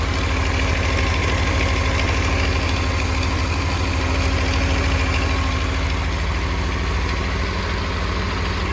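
A 1984 Honda CBX750 motorcycle engine idles steadily up close, a continuous low throbbing putter with a faint mechanical rattle, loud and unchanging throughout.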